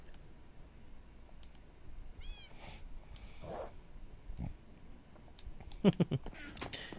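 Small kitten meowing in Minecraft, a few faint, brief high mews scattered over quiet background game ambience, with a short cluster of louder cries near the end.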